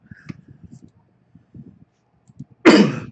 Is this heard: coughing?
yes